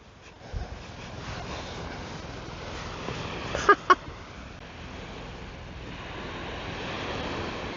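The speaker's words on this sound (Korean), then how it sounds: "물소리 좋다" Surf washing onto Byeonsan beach on the Korean coast, a steady low wash of waves with breezy wind noise and a couple of brief sharp knocks near the middle, heard from the shore.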